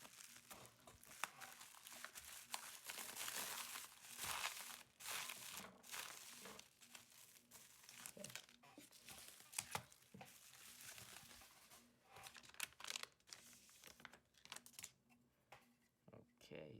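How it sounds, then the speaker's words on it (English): Packaging for a replacement trackpad for a 2017 MacBook Pro A1708 crinkles and rustles faintly up close, in continuous irregular bursts of plastic and paper handling. "So we're going to be unboxing the replacement trackpad."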